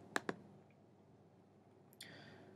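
A computer mouse clicked twice in quick succession, sharp and close, followed by a softer click-like sound a moment later in an otherwise quiet room.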